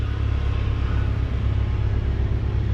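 A 2016 Cadillac ATS-V coupe with a twin-turbo V6 idles with a steady, deep exhaust rumble, close and even throughout, with no talking.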